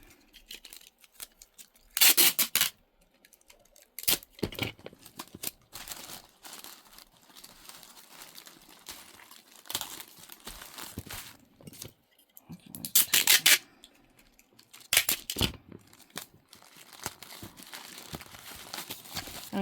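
Tape is pulled and pressed onto black poly mailer bags in short, close, crinkly bursts of tearing and rustling, repeating irregularly with quieter handling noises in between.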